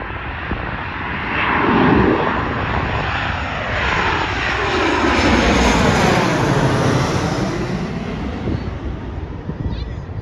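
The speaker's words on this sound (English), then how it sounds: "So it's from Perth, Virgin Airlines, Boeing" Virgin Airlines Boeing 737 jet airplane from Perth passes overhead with a loud, sustained engine roar whose pitch sweeps as it approaches and recedes, a voice faintly audible beneath.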